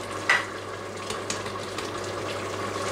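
Goulash seasoned with paprika, pepper and a touch of chili sizzles in an Instant Pot, a steady close frying hiss with a few faint clinks and stirs.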